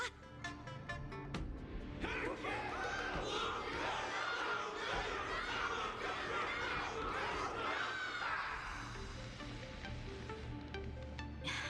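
Honkai Star Rail crowd roaring for Luka after his battle with Yanqing, a dense swell of shouting and cheering building for several seconds before fading, with spoken dialogue around it.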